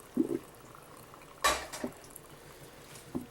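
Hot pasta water is poured into a colander in a home kitchen, heard as a short splashing gush with a few metallic clinks and drips, fairly quiet, with no talking.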